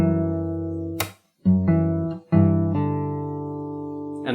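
Guitar playing the closing phrase of a song slowly, a few sustained plucked notes ringing out with a brief pause between them, close and clear with no voices.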